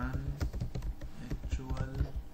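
Rapid clicking keystrokes on a computer keyboard during SAP software entry, a busy irregular patter of taps close to the microphone with some faint talk mixed in.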